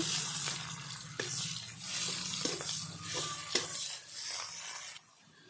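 Chopped onion, slit green chillies and two bay leaves frying in oil, a close, steady sizzle with several sharp stirring scrapes and taps before the sound drops away near the end.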